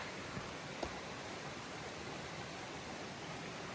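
A creek in the hinterland runs with a steady, even wash of flowing water, still carrying a decent brownish flow, and it sounds soft and continuous at a moderate distance with a couple of faint clicks.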